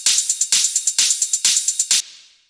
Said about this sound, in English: The next thing here are the hi-hats.